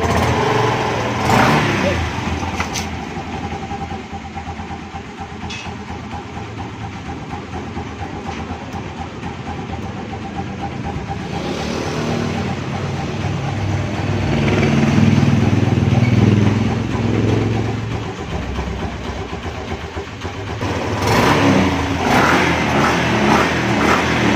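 A Suzuki Skydrive motor scooter with burnt wiring runs on a direct-wired connection, its small engine holding a steady, fairly loud idle that swells slightly midway and near the end.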